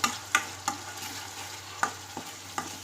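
Spices and chilli powder frying in oil for pav bhaji, stirred in a pan: a constant close sizzle punctuated by about seven crisp, evenly spaced spatula scrapes and taps, with no talking.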